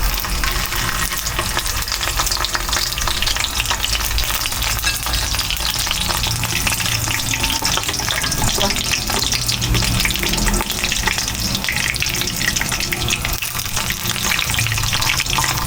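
Eggplant frying in plenty of cooking oil gives a steady, loud, dense sizzle with crackling spatter that runs unbroken throughout, with no voices.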